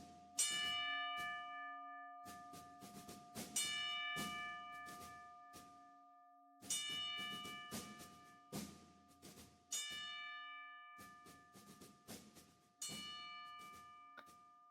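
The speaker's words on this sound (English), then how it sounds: "he pulls out this old busted bell, this old busted ringside bell, and he takes out a little mallet and he rings it 10 times" An old, battered ringside bell struck with a small mallet rings out ten times in spaced groups, each bright clang leaving a long, shimmering metallic decay in otherwise quiet surroundings.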